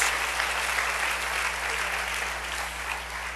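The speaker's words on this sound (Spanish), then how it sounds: "Denle un aplauso al Rey bendito, hombre." A church congregation bursts into steady applause, clapping in a dense, continuous wash that fades slightly near the end, over a low electrical hum.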